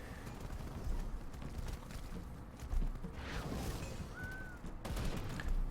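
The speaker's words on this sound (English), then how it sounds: "the new gunshots just sound really good. Like the rifles, it just sounds really meaty" Meaty rifle gunshots from the video game Grim Dawn fire in a dense, continuous barrage over a rumbling low background, with a few sharper bursts standing out around the middle.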